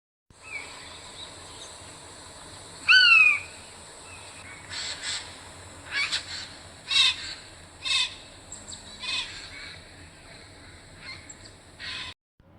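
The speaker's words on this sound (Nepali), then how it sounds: "कैलो बनकाग।" A kailo bankag, a treepie, gives a series of harsh, clear calls in short bursts separated by quiet gaps, close and alone against faint background hiss.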